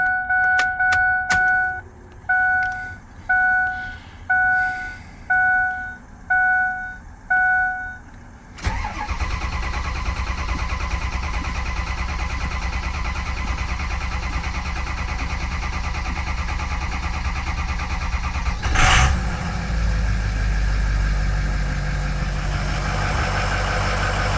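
A 6.0 liter Ford Power Stroke diesel engine with a newly replaced number 8 fuel injector. A series of evenly spaced warning chimes sounds first, then the engine cranks and catches. It settles into a steady, close, rumbling idle with one brief rev-like surge.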